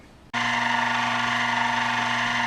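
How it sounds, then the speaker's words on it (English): A power tool starts abruptly and runs at a steady high whine while deburring a metal workpiece in a shop, loud and close with no talking. "I'm going to deburr it."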